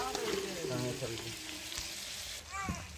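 Pork and potatoes fry in a home kitchen pan, a steady broadband sizzle with scraping stirs and a few clinks, with faint background voices and harmonic tones in places.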